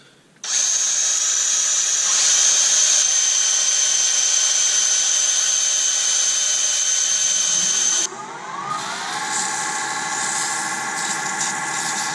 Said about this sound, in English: Not with that drill, with this one.